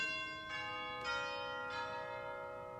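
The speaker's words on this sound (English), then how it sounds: "Here are some chimes, so this is like somebody's knocking at your front door" Chimes stop of the Kotzschmar pipe organ striking three bright, ringing tones spaced evenly apart, each sustained and overlapping like door chimes, played softly in a large hall.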